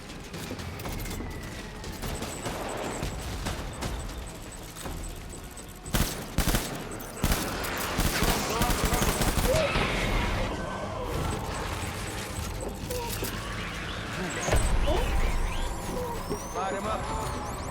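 Sustained volleys of automatic gunfire in Death Stranding fill the scene, with heavy sharp bursts around the middle and continuous rattling throughout, mixed with other battle noise and voices speaking.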